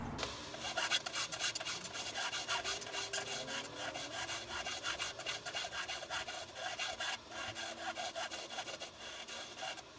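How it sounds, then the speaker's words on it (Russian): A hand file rasps steadily along the bottom of a wooden slot cut for a DIY marking gauge, smoothing the rough surface left by a saw blade, with quick repeated rubbing strokes close up and fairly quiet, no talking. "Сейчас я все это дело аккуратненько напильником"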